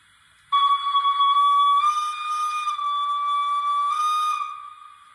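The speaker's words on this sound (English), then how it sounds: "Option six is a crow whistle." A Rapido Trains DCC sound-fitted model Hunslet 16-inch 0-6-0 saddle tank steam locomotive, Hollybank No.3, gives a crow whistle: one loud, sustained shrill tone of about four and a half seconds that rises in pitch partway through, heard alone and close.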